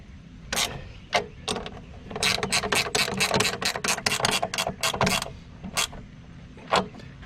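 Bolts are retightened on a Cyclone Rake case with a ratchet, a close run of quick clicking strokes in a rapid burst, framed by a few scattered single clicks before and after.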